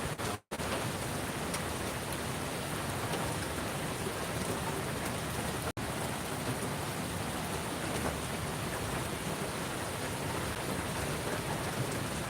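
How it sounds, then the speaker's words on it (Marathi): First monsoon rain falling steadily on surfaces in Navi Mumbai, a constant dense hiss with faint distant thunder, broken by two brief dropouts. "नवी मुंबईमध्ये पहिला पाऊस पडायला सुरुवात झालेली आहे"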